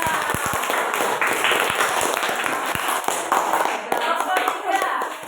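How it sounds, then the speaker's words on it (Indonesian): Classmates clap for a group in a school lesson, a lively burst of hand claps with some sharp individual slaps, continuing steadily throughout. "Oke, tepuk tangan dulu untuk kelompok 2."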